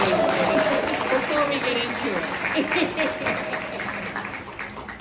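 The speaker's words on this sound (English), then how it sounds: "Can we just give each other a round of applause, please," An audience gives a round of applause at an evening exhibition event, steady clapping from a crowd that fades gradually over several seconds, with a voice speaking briefly over it.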